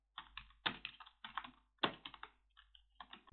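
Keys on a computer keyboard clatter while someone types a comment into Microsoft Word, in close, irregular clusters of crisp clicks with short pauses and no talking.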